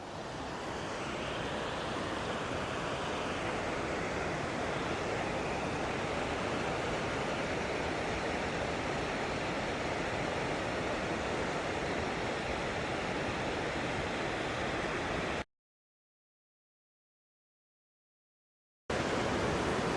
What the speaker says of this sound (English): Pretty nice waterfall.